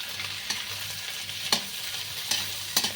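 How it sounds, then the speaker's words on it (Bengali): Tough vegetable stems fry in hot oil in a pan, a steady close sizzle broken by a few sharp scrape-and-stir clatters about once a second, with no voices. "তাই ডাঁটাগুলো আগে একটু বেগে নিচ্ছি"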